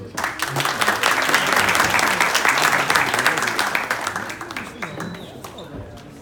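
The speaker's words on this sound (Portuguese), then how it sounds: "o recebeu com uma salva de palmas" Crowd at a hackathon in Recife gives a round of applause, a thick, fairly loud burst of many hands that builds, holds, then tapers off, with a faint murmur of voices.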